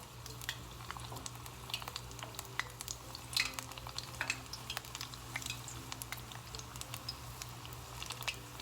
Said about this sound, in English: See how it's bubbling perfectly in the cauliflower.